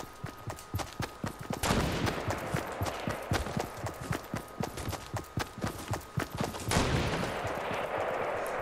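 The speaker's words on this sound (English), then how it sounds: "I think they're shooting at us." Rapid bursts of gunfire in the Fortnite video game on PS4, a fast series of sharp cracks with a couple of louder volleys, from an enemy shooting down from a hill.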